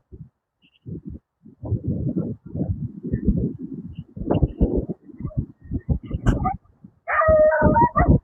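A dog barks at a seaside informal settlement in Bacoor, Cavite, a few sharp barks from some distance breaking through repeated conversational talk, then a louder yelp at the close.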